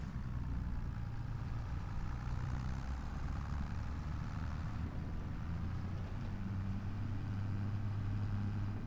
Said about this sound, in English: But I did like the sounds of the tractor a little bit better.